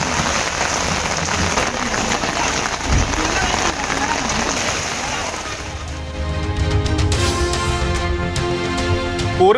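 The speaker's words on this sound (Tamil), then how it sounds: "சுமார் 1 மணி நேரம் கொட்டி தீர்த்த கனமழை" Heavy rain during an hour-long downpour in Chennai, a dense steady hiss of drops on surfaces, loud and continuous, with a rumbling engine-like tone emerging near the end.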